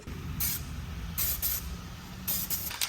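Self-etch primer hisses from a spray can in a BMW engine bay, in three short sharp bursts over a steady background rumble.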